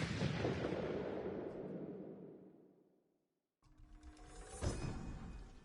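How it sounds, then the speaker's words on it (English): A black powder bomb, a clay pot packed with Mongol powder and set alight, explodes in Ghost of Tsushima: one deep, rumbling blast that slowly fades to silence, then scattered clatter and a sharp impact. "we're gonna go for the black powder bomb now"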